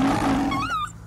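A lion's roar sound effect in a children's audiobook, one short, loud, rumbling roar that rises into a snarling cry and ends within about a second.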